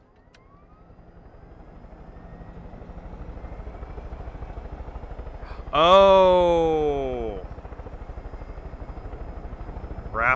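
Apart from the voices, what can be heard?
helicopter flying in the video game Far Cry 5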